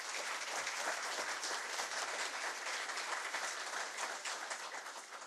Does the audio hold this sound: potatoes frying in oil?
no